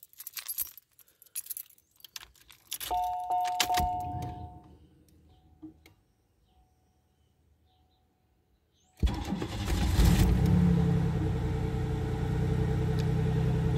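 A 1988 Oldsmobile 98 Regency Brougham starting: keys jingle and a chime sounds, a pause, then the engine catches and settles into a loud, steady idle up close.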